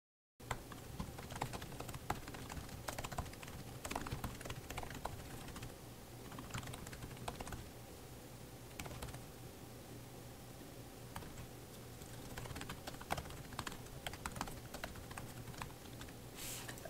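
A computer keyboard clatters steadily as a Facebook post is typed, irregular key clicks running continuously for over fifteen seconds, close and moderately quiet, no speech.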